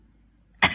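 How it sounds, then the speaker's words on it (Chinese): A single sharp cough bursts out near the end after near silence, loud and close, from a person who has had a lingering cough for days. "第5天还是咳"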